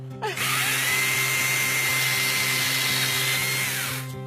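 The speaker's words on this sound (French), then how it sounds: "cette tronçonneuse est toute légère" Small, lightweight chainsaw cutting outdoors, a steady, loud, high-pitched buzz that starts abruptly and holds for about four seconds before cutting off, no talking.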